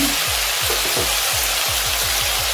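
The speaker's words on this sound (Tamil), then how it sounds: "இப்போ எடுத்து வச்ச வெஜிடபிள்ஸ்லாம் சேர்த்துடலாம்." Vegetables for a vegetable biryani, including carrot, beans and green peas, hiss and sizzle loudly in a hot pan, a steady broadband crackle with a faint rhythmic thumping of stirring underneath throughout.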